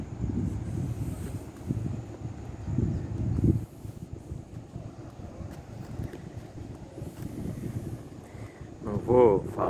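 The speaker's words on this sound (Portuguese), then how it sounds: "tem muito vento, daí a fala vai ficar baixinha, vai ficar o barulho do vento." Strong wind buffets the microphone in a steady roar on the way to the beach at Salinas, with a voice talking underneath and fading in and out of the gusts.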